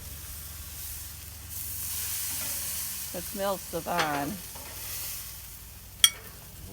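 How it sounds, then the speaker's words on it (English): Steady sizzle of carne asada steak frying in a pan hisses throughout, with a short spoken comment in the middle and a brief sharp clink near the end. "It's sizzling"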